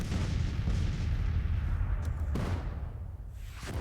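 Artillery batteries firing in the Civil War strategy game Grand Tactician, a dense continuous rumble of booming gunfire rolling steadily and loudly across the whole stretch with no speech.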